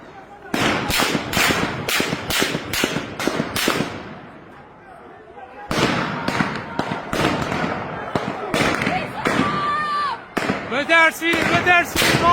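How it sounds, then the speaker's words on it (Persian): Rapid bursts of sharp gunshots from Revolutionary Guards in Iran crack out in volleys, pause, then resume, with shouting voices between the shots. "پاسدارا هستن، پاسدارا دارن شلیک میکنن."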